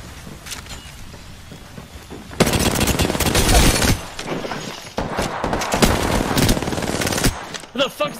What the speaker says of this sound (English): Who the fuck is that person shooting?